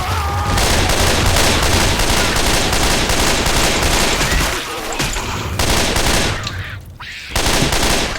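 Rapid automatic gunfire rattles in sustained bursts at an armored zombie in Left 4 Dead 2, loud and dense with brief pauses between volleys.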